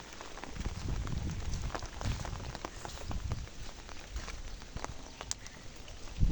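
Steady rain patters densely on the ground and nearby surfaces outdoors, a continuous close wash of drops with scattered sharper splashes and no talking.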